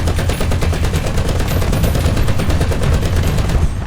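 Tank machine-gun fire in the War Thunder game, a Sherman I Composito battle, sounding as a loud, continuous rapid burst of shots that runs steadily for the whole stretch without any talk.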